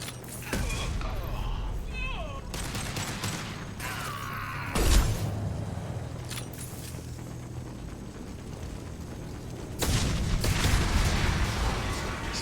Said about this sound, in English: Explosions in the sky.